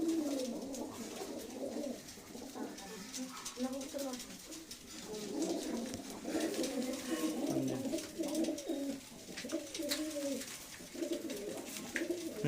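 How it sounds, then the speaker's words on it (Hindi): Pigeons coo repeatedly in low rolling phrases, blue-footed birds kept by a fancier in Kudana village, Shamli district, with voices talking over and around the steady cooing throughout. "नीले पंजो का कबूतर है।"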